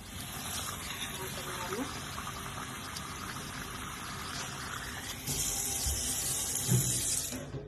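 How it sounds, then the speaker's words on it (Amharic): Water runs from a tap into a pot of washed rice, a steady rushing stream that grows louder and fuller near the end, with a low mechanical hum behind it. "ውሃ ጨምሬ አስቀምጠዋለሁ ማለት ነው።"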